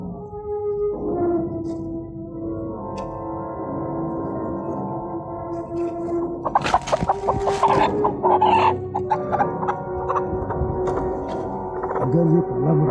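A black rooster crows and clucks nearby, with drawn-out harmonic calls followed by a burst of louder, rapid clucking and squawks that continue in short bursts; no voices accompany it.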